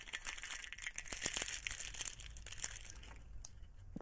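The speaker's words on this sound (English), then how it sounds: "They love these crinkly ones so much." Cats paw and tumble crinkly gift toys, making soft, fairly quiet bursts of rustling and crinkling crackle that come and go throughout.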